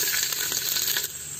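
Finely chopped garlic hits hot oil in a pan for a country crab pizza sauce, giving a steady, close, broadband sizzle with faint crackles throughout, no voices over it.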